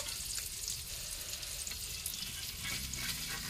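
Egg and cabbage fry in a pan over low heat with a steady, dense sizzle and faint crackles that carry on without a break, heard close and with no talking.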